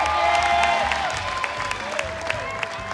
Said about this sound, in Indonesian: Oke, kasih tepuk tangan mana?